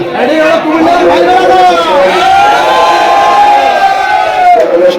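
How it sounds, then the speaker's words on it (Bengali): Dense crowd at a rural cattle market in Bangladesh, loud and close, with many overlapping voices, shouts and calls forming a constant roar. "অনেক মানুষের ভিড় ভাই"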